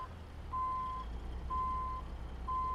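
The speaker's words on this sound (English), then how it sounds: "We'll stop as soon as the beeper goes off." A truck's reversing beeper sounds in American Truck Simulator, backing up a Ford LTL 9000 NASCAR hauler: steady, evenly spaced high beeps, each about half a second long, over a low, constant engine rumble.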